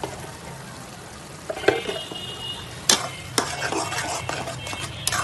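Ground cumin, cardamom and cinnamon frying with onions in oil for beef bhuna, a soft steady sizzle broken by several sharp clinks and scrapes of a spoon against the pan, no talking.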